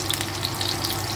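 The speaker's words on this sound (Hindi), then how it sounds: "हम करेलों को थोड़ा शैलो फ्राई करेंगे, जिससे ये थोड़े करारे भी हो जाते हैं" Pieces of bitter gourd shallow frying in hot oil over a high flame, giving a steady, close hiss and crackle with small popping spatters throughout.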